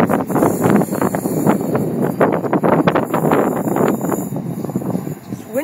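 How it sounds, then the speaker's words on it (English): Gusty wind at a railway station buffets the microphone with loud, irregular rushing bursts that never let up, with no clear speech over it. "It's windy today."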